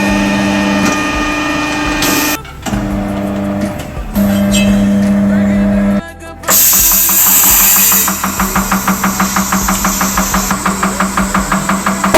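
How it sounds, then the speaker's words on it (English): A car rolls along slowly on a spare tyre with only three wheel nuts holding one wheel, its engine and road noise steady and close, ending in a rapid rhythmic thumping from the wheel. "Trying to drive pretty slow because I've only got 3 nuts on one of the wheels and I got a spare tyre on as well."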